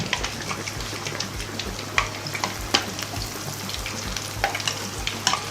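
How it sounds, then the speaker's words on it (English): Funkaso dough frying in hot oil, a continuous close sizzle and bubbling with scattered sharp pops and crackles, fairly steady throughout. "You cut it with your finger and put it gently into the oil."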